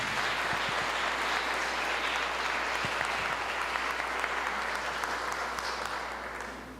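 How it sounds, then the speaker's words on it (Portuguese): A church congregation claps together at an evening service, a dense steady wave of applause from many hands that fades gradually toward the end. "Aplauda Jesus essa noite"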